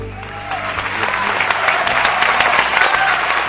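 Applause from a small group in a radio studio, a steady patter of claps at moderate loudness that runs the whole stretch with a voice faintly underneath.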